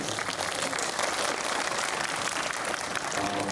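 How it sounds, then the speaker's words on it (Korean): A cinema audience at a film talk event with cast and director applauds in a steady, moderately loud wash of many hands clapping throughout. "박수 한번 부탁드립니다."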